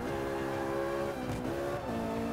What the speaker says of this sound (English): You just nudge one of those cars and it sends this thing into a spin.